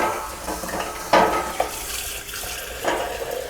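Tap water runs into a canner holding six jars for canning cucumbers, a steady splashing rush with a few clinks of glass and metal standing out against it.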